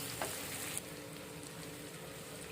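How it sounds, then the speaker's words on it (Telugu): Cluster beans fry in a pan while being stirred, a soft steady sizzle heard close but faint, with a couple of light scrapes near the start and no voices. "ఇది మధ్య మధ్యలో కలుపుకుంటూ ఫ్రై చేసుకోవాలి."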